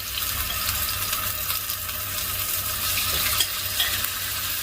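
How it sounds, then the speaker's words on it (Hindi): Marinated chicken sautéing in olive oil in a frying pan, a dense continuous sizzle up close with occasional soft stirring knocks and a low steady hum beneath, no talking. "तो सबसे पहले मैं चिकन को थोड़ा सौटे कर लेता हूँ।"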